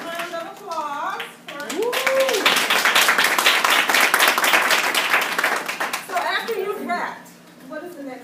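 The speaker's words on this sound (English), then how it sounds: "Round of applause." Audience clapping and applause fill the middle of the clip at moderate loudness, rising after a speaker's voice and fading back into talk near the end, with voices heard before and after.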